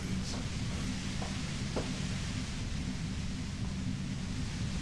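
Steady broadband hiss of white noise in the video game Disco Elysium, dense and unbroken for several seconds, with a low rumbling undertone.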